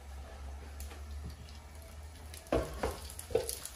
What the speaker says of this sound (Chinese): 咱们现在把这个煎饺煎一下